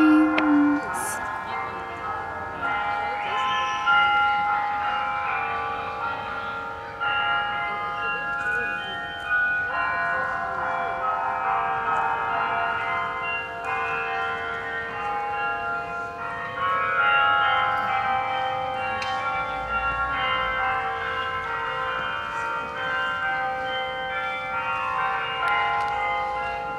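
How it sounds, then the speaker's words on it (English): Carillon bells chime from Bok Tower at Bok Tower Gardens, a steady stream of overlapping ringing tones that sustains without pause at moderate, fairly even loudness. "And there are the chimes."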